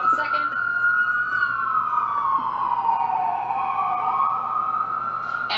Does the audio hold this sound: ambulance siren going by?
yes